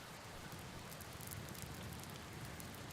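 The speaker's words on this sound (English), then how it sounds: "I can't hear anything over this blasted rain." Rain falling in the farming video game Farmer's Life, a soft, steady hiss of drops pattering on surfaces, faint and continuous with no talk.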